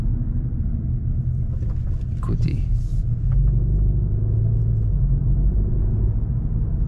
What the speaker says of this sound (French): Gros moteur V8 américain. Dans une jeune voiture espagnole.